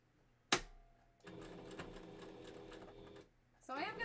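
A sewing machine runs a short burst of back stitches on a fursuit bandanna, a steady mechanical whir lasting about two seconds after a sharp click, then stopping before faint handling noise.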